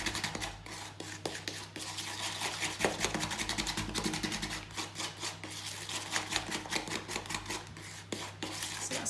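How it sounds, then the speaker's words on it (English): Butter and caster sugar being mixed together in a bowl, a rapid run of close scraping and rubbing strokes with an uneven rhythm, steady throughout without talk. "I'm just going to give that a mix together"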